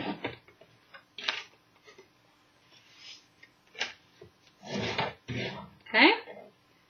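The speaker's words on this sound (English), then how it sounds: "we're going to fold and burnish our score lines, making sure that they're down." Card stock being folded along score lines and burnished flat while making a four-panel card, giving a scatter of short crisp rubbing and tapping strokes, close and moderately loud, with a brief louder swipe near the end.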